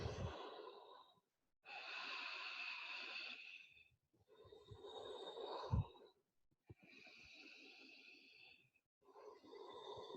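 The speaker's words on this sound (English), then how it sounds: "Keep breathing." Slow, deep breathing during a yoga pose: long airy inhales and exhales alternate with short silent pauses, close and soft, with no talking.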